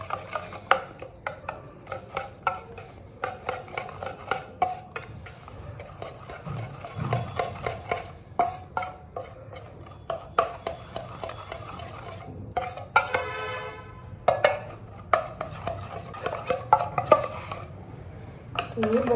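Spoon scraping and clinking steadily around a bowl as a little milk is mixed into a saffron kalakand mixture, a close, busy run of rapid rasping strokes and taps that continues for the full stretch with no talk.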